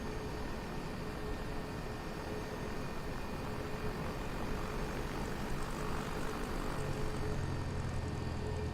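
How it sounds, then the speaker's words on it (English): Boeing F/A-18E Navy jet fighter in Microsoft Flight Simulator, a steady broadband engine roar and airflow hum held continuously at moderate level throughout, with no talking. "the Boeing FA-18E, which is actually the Navy jet fighter"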